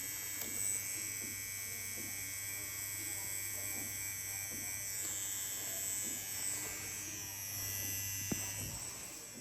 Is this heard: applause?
no